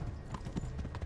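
Horse hooves clip-clop at a steady trot in a PS4 video game, an even run of soft thuds under someone talking and game background sound.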